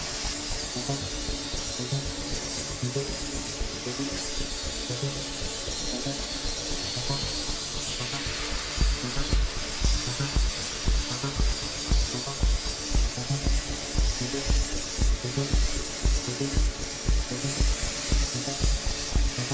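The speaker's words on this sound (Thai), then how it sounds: "ขัดเก็บงานนะฮะ เวลาลงสีเนี่ยเนื้อมันจะได้เนียนๆนะครับ" Wood of a DIY shoe cabinet is sanded with a steady, close power-tool hiss that runs continuously for nearly twenty seconds, a rhythmic pulsing texture under the constant rasp and no voices.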